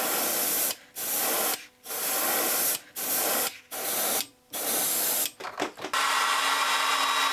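Airbrush spraying Badger Ghost Tint Blue transparent paint onto a plexiglass lipless crankbait lure, a loud close hiss in about six bursts separated by brief pauses, with a longer steady spray at the end.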